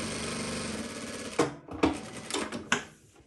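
A JUKI DDL-900C industrial sewing machine stitches in a rapid, even mechanical chatter, then stops and starts in a few short bursts with clunks, close by and without speech.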